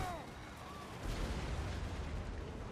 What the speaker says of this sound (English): Hell cannons are fun.